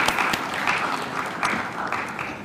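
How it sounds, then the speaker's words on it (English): Dinner guests at an awards and handover ceremony applaud steadily, a continuous wash of many hands clapping at moderate volume for the whole stretch without letting up. "let's have a round of applause"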